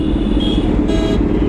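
Busy road traffic surrounds a motorbike in India, with dense engine rumble from nearby vehicles and brief high horn toots cutting through the loud, constant din.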